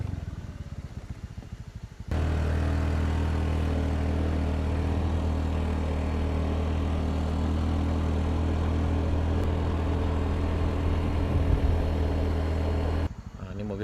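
A loaded vegetable truck from Solo regency, carrying about 1.8 tons toward a market, rumbles past on a steep road with a steady, loud low engine drone that holds for about eleven seconds before dropping away.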